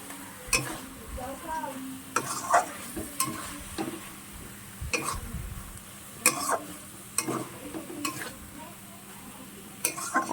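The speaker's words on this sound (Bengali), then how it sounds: "একটু ভালো করে নাড়তে হবে এখন।" Eggs and onions for egg kalia are stirred in a pan with a spatula, irregular scraping knocks against the metal over a faint sizzle of frying, spaced every second or so.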